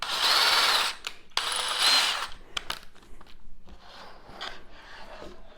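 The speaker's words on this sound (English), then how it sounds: "now I'm going to drill the starter holes for each of these 4" A power drill whines loudly in two bursts, drilling starter holes for an HO scale model railroad crossing gate, then quieter clicks and short tool noises follow as the bit stops and is handled.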